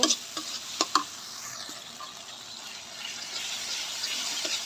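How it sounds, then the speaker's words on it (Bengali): Spices sautéing in a pan for mustard fish curry, a light steady sizzle with a few sharp spatula taps early on, close and fairly quiet. "সবগুলো মশলা এখন এখানে আমি কষিয়ে নেব ভালো করে"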